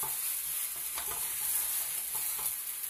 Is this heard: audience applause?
no